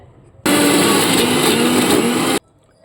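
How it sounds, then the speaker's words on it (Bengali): A mixer grinder pulverizes soaked masoor lentils with no added water. It runs as one loud, steady whirring burst of about two seconds, then cuts off abruptly into near silence. "আর একটু বাটবো এটা"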